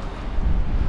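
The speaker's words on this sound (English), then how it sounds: "It is about 2 degrees and very windy." Strong wind buffets the microphone at the harbour village of Port Isaac in Cornwall, a brief low rumbling gust that swells in the middle, with no voices.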